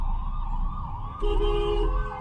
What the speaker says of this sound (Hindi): और पीछे या आगे कहीं पे तो एम्बुलेंस है।